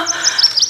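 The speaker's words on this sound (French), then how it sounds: "L'oiseau!" Brief high-pitched bird chirps, a quick series of clear tweets repeated several times in under a second, close and fairly loud.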